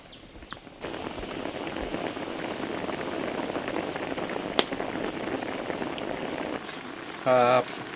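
A steady low bubbling and hissing of water at a rolling boil in a cooking pot of Thai beef curry, with a brief voice near the end.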